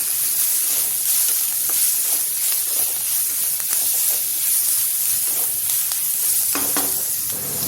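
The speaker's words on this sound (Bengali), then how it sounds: "নুন দিয়ে একটু ভেজে নেব। সাথে দিয়ে দিচ্ছি 2 টুকরো পনির।" Potato pieces and paneer fry in hot oil with salt, a loud continuous sizzle and hiss with stirring scrapes running throughout, no voices.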